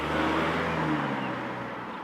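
A Jaguar with the 2-litre D180 engine accelerating, a steady close engine roar with rushing road noise that eases slightly toward the end, no voices.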